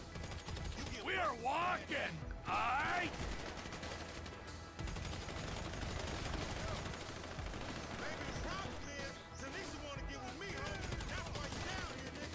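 Bursts of rapid gunfire in GTA V, fusillades of shots rattling across most of the stretch amid game noise, loudest early on, with talking heard over it.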